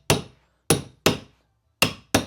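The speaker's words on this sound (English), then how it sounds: "we're gonna take our stair tool and our hammer," A hammer strikes a stair tool to drive staples deeper into a carpet runner on stairs, five sharp, clean knocks at an uneven pace with silence between them.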